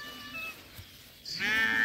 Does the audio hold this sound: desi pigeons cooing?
no